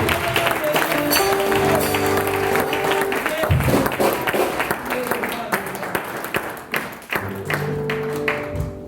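Audience applause at a family breakfast event welcoming a reverend to the stage, a sustained round of clapping with thumps and crowd noise under bilingual spoken introductions.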